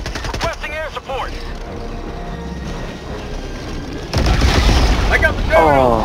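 A 500kg bomb explosion in the Helldivers 2 video game erupts as a sudden loud, broad blast partway through, following gameplay noise and voices talking over continuous combat rumble.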